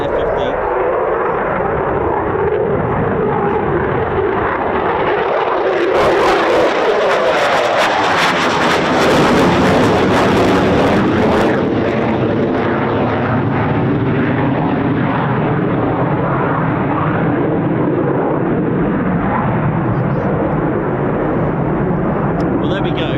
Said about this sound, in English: It is an F-15, which I thought was an F-35, then an F-15.